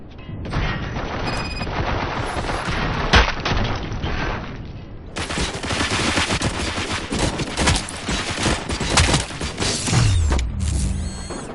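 Dense, sustained gunfire and mechanical clatter from a RoboCop game firefight, loud and continuous for over ten seconds, with a brief gap midway before the barrage resumes at full force.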